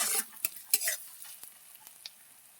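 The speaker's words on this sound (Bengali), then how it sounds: "কড়ায় আমি তেল দিয়ে পেঁয়াজটা দিয়ে দিয়েছি। পেঁয়াজটা লাল লাল করে ভেজে নেব।" Onion fries in oil in a wok, a sharp burst of sizzling and spatula scrapes at first, then a quieter crackle with scattered spits and taps fading off, close and without talk.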